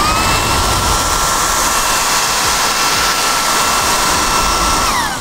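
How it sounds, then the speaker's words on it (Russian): A vacuum cleaner with a crevice nozzle sucks dust from the corner of a sofa, giving a loud, steady whining roar with airflow hiss that holds throughout and shifts pitch slightly near the end. "с помощью нее мы можем пылесосить различные углы и щели"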